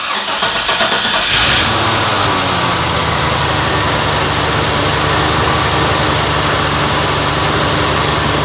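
A truck with a Vortec 454 V8 cranks for about a second and a half, catches and settles into a loud, steady, rumbling idle close by.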